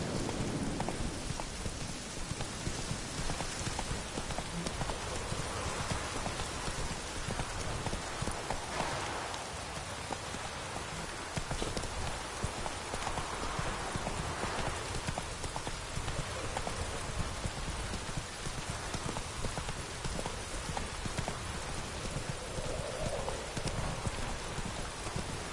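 Horse hooves clip-clopping through steady rain in The Witcher 3, the patter of raindrops dense and constant across the whole stretch with the hoofbeats blended into the wash.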